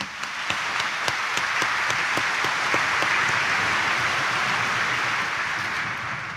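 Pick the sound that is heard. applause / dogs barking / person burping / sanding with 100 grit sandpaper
applause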